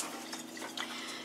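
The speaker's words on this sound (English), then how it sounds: "Now I'm going to get a little warm water here." Warm water runs steadily from a tap in a home kitchen for yeast proofing, a soft continuous splashing with a few brighter drips, close by and without talk.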